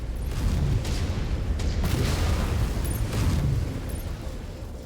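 A destroyed mech explodes in MechWarrior 5, a deep rumbling boom that rolls on with further low blasts and bursts, loud and close.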